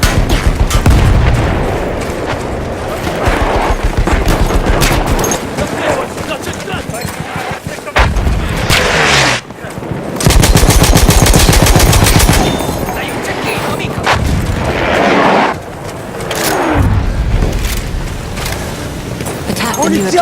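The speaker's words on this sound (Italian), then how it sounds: "Wait for the enemy artillery barrage to stop firing." Battlefield 1 multiplayer battle with an enemy artillery barrage: dense, loud machine-gun bursts and rifle fire crackle almost nonstop, heavy booms and explosions landing throughout, with shouted soldier voices mixed into the chaos.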